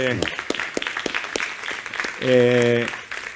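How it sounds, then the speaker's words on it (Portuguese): Brief scattered clapping with talking over it, then a sustained voice cuts through as the applause fades. "Un aplauso también para él."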